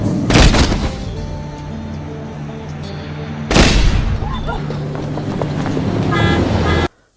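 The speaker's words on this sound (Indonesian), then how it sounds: "Castello langsung menembaki Fung dan anggotanya." Gunfire in an action film, with two heavy blasts that ring out and trail off amid a noisy movie soundtrack, before the sound cuts off abruptly.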